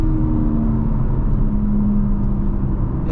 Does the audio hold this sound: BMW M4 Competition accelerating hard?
yes